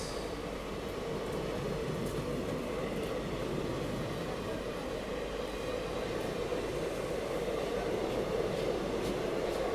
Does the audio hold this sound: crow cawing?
no